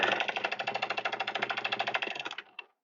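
A home sewing machine runs a straight single stitch through fabric for a cinch bag, a fast steady mechanical chatter of needle strokes close up, slowing and stopping near the end.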